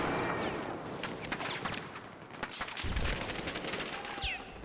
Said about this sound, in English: I'm getting shot up pretty good.